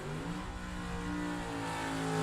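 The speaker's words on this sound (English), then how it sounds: "That car is breaking up on down track." Drag racing car engine breaking up and not running properly down the track, heard as a steady, sustained droning roar with a slight rise in level toward the end, no speech over it.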